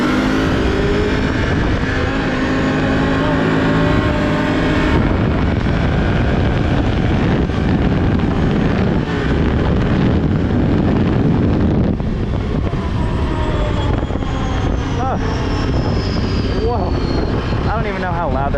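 Can-Am off-road vehicle making a top speed run in the rain: a loud, continuous engine roar with heavy wind buffeting on the mic throughout, and a voice partly audible under the noise.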